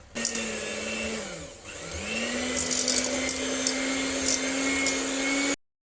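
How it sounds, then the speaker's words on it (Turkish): An electric hand mixer whips cream at close range, whirring steadily, its pitch dipping briefly as it strains, then rising and holding until it cuts off abruptly. "Bunu mikserimizle çırpmak istiyorum daha iyi çırpılması için"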